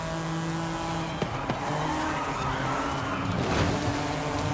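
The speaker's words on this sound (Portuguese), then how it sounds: "Ah, fiz um drift aí, ó, viu?" Tires squealing as a car drifts during a race in Forza Horizon 5, a steady engine drone running under the skid with a brief louder swell near the end.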